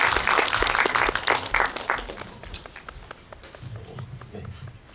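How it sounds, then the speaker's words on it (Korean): Cinema audience at a film guest-visit Q&A in a CGV theatre breaks into applause, loud and dense at first, then thinning and fading into scattered claps. "박수 한번 부탁드리겠습니다."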